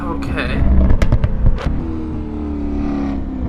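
A GT3 race car engine in Assetto Corsa roars loud and near with revving bursts in the first second and a half, then settles into a steadier drone while people talk over it.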